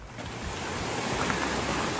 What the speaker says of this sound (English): And I can hear the first falls down to the left.